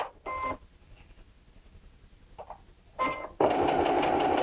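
A Baby Lock Soprano sewing machine stitches fabric in short whirring bursts, stopping and starting, then settles into a steady, loud mechanical hum near the end.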